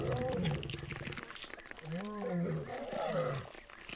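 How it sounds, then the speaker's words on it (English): Lionesses attack a male lion on the savannah with deep, rising and falling roars and snarls up close, following a brief stretch of voice at the start. "some other lionesses are attacking the male lion because they didn't like the outcome of the fight"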